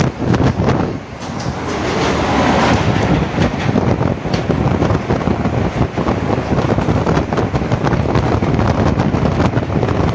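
A passenger train on the Boudh to Balangir line rumbles steadily, heard close up from aboard with rattling carriages and gusts of wind buffeting the microphone, and nobody speaks.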